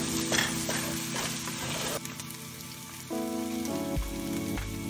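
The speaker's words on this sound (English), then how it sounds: "Mix well." Cottage pie filling with ketchup or tomato sauce stirred in a hot pan, a continuous sizzle and scraping under steady hiss, close by, with a faint tonal hum late in the clip and no talking.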